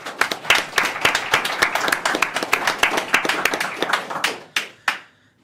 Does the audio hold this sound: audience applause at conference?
yes